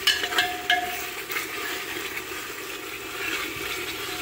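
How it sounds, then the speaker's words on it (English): Mutton curry paste fries in a pot, giving a soft, faint sizzle with a few light stirring scrapes and clinks near the start and no talking. "frying there."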